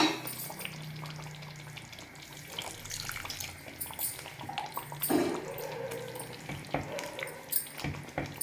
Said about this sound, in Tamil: ஒரு கால் கப் அளவுக்கு நான் தண்ணி சேர்த்துக்கிறேன்